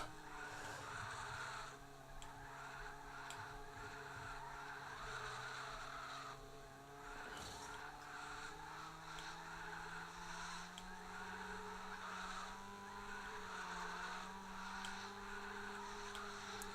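Engine of a car drifting in the video game Need for Speed Underground 2, a continuous droning motor with rising and falling pitch and a faint tire squeal, steady and close throughout.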